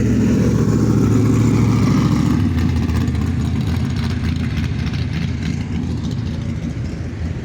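A Chevy Nova idles close by at a spring rod run, a loud, steady low engine rumble with an even pulse that eases slightly after a couple of seconds, with no voices over it.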